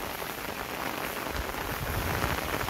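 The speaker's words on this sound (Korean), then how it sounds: "지금 많은 비가 오고 있습니다." Heavy summer monsoon rain pours steadily onto rice paddies along a field path, a dense, close, unbroken patter with no voices.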